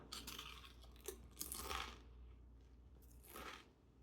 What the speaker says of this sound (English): This is gonna be extra double crunchy.